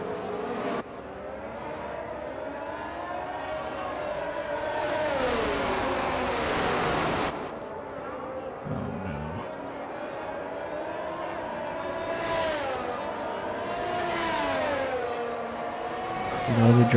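Race cars in the F1 22 video game roll through a formation lap at São Paulo, a steady layered engine drone with rising and falling revs and several louder passes, continuous throughout with a brief voice near the end.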